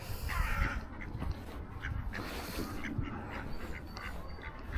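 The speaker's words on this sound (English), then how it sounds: "Oh, there's some ducks in the brook." Ducks quacking on a brook beside a walking path on a sunny day, a few scattered calls at moderate distance over steady outdoor background noise.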